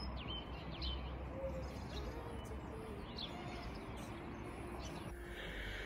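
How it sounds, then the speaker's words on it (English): Morning birdsong in a garden: scattered faint chirps and calls rise over a steady rushing background throughout. "Birds are singing this morning."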